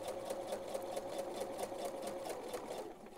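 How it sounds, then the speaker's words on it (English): A sewing machine runs a regular straight stitch along a seam on men's boxers, its needle clattering in a fast, even rhythm, close and moderately quiet, with no talking. "you're going to stitch right along this line"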